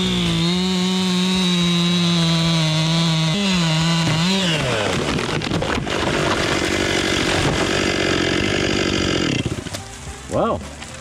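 A chainsaw makes a cut on the top side of a tree trunk, just below an earlier cut. The loud, steady engine whine shifts pitch as the revs change, then the cut ends abruptly near the close.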